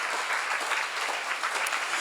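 Steady audience applause fills a seminar hall, dense and even throughout with no pauses, the clapping close and continuous.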